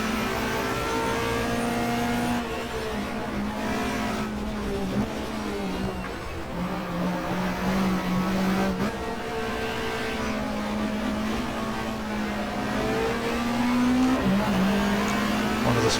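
A Peugeot touring car from the 1994 Australian Manufacturers Championship roars around Eastern Creek in the GTR2 racing game, its engine droning steadily with shifting pitch through gears and a brief lift, continuous and loud with no talking.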